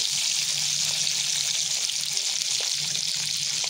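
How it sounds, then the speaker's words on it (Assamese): Skinless magur catfish frying in mustard oil, giving a steady, close, loud sizzle and crackle that continues evenly throughout. "মাছ ভাজি আছোঁ।"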